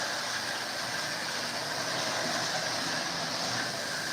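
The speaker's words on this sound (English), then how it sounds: "We're running trains." Lionel model trains running on track in a hobby shop, a constant, even whir and hiss of motors and wheels with no breaks and no voices.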